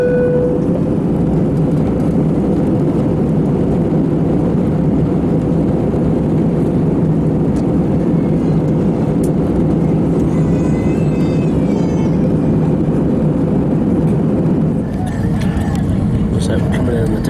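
Airplane cabin drone during descent before landing, a loud steady low engine roar throughout, fading slightly at the very end.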